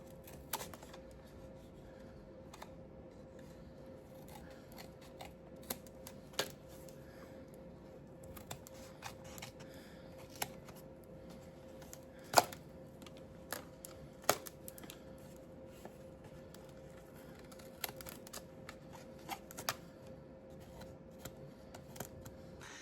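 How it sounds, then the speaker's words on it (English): Scissors snipping to trim a handmade paper ice cream craft, a sparse series of quiet, crisp clicks and snips at irregular intervals in an otherwise quiet room. "I think I need to trim a little bit down here at the bottom"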